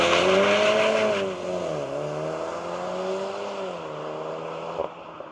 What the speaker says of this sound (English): with the drift mode, even just when accelerating straight, we put some tire stamps on the road actually with a little bit of wheel spin when accelerating